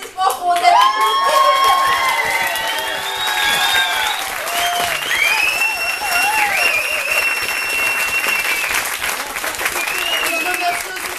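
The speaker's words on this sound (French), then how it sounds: "un tonnerre d'applaudissements pour Odette et Claude" Wedding guests applaud Odette and Claude in a loud, sustained burst of clapping lasting the whole stretch, with cheers, whistles and voices rising through it.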